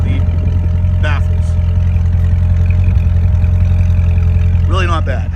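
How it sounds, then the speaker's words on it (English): A Corvette Z06 idles on its stock exhaust with the baffle fuse pulled, a deep steady burble close by, with a voice speaking briefly over it near the start and again at the end. "what I wanted to show you is the sound of the stock exhaust with the fuse pulled for the baffles"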